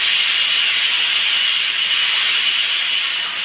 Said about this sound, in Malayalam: ഒരു 5 വിസിലടിക്കട്ടെ കുക്കറിൽ